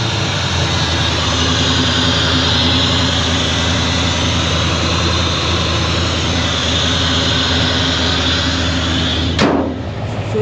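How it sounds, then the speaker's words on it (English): The Ramjet 502 cubic inch V8 of a 1968 Chevrolet C10 resto-mod runs close and loud, a steady unbroken roaring drone from start to finish with no voices. "So I'll fire up that 502"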